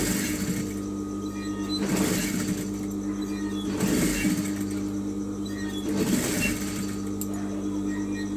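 A sewing machine stitches blouse fabric for a round-neck blouse, running in steady mechanical bursts of roughly two seconds with brief slowdowns between them, close and moderately loud.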